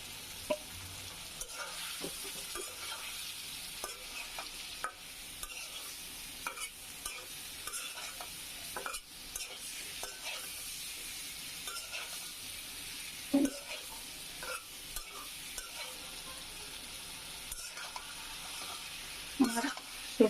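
Fried pointed gourd and potato are stirred into cooked spice paste for a shrimp curry, a faint, steady sizzle broken by soft scraping and clinks of a spatula.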